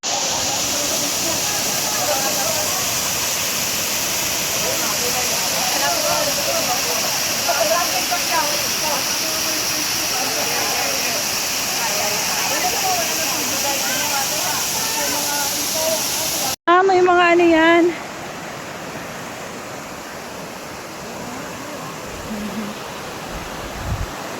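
Aliw Falls pours in a constant broad roar of falling water, loud and steady, with voices faintly talking underneath; near the end the rush cuts to a quieter ambience where a voice speaks.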